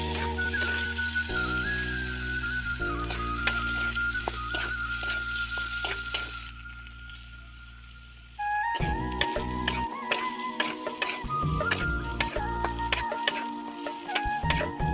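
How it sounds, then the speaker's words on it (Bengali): Potato pieces fry in oil with salt and turmeric over a village stove, giving a steady sizzle with repeated scraping stirs. A faint tonal hum runs underneath. "আলুগুলো একটু লাল লাল করে ভেজে নেব।"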